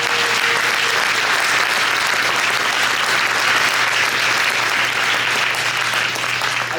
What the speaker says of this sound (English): a round of applause for our 5 candidates here tonight